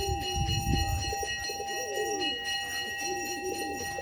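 A bazi tumbler pigeon coos in soft, low, repeated phrases close by, with a steady high electronic whine running underneath and no talking.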